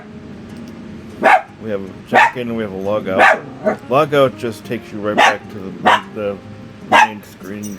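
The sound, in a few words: dog barking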